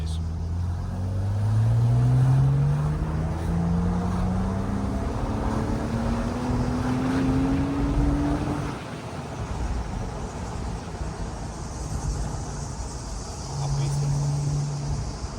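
A Porsche engine pulls in second gear at about 2000 rpm, a low droning hum with slowly rising tones from inside the cabin, steady and moderately loud throughout.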